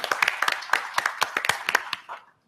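A small audience claps for guest Cathy Pearl, head of conversation design outreach at Google, at a voice-first technology panel; sparse, distinct handclaps rattle for about two seconds, then fade out quickly to silence.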